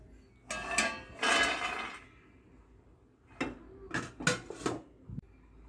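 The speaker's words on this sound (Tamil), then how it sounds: "இதை வேறு ஒரு பிளேட்டுக்கு மாற்றிக்கலாம்." Roasted almonds are tipped from a pan onto another plate in a few clattering bursts of nuts and dish contact, with quiet gaps between them.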